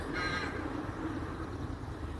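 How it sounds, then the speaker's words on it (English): Crows caw faintly in the distance, a short burst of harsh calls over a quiet outdoor background at a cemetery in Clonmel. "You can hear the crows."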